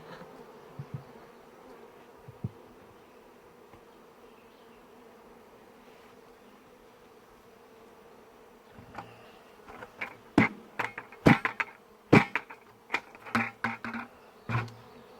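Bees from a freshly caught swarm hum softly in a box, a faint steady buzz that gives way to a string of sharp knocks and clatters near the end.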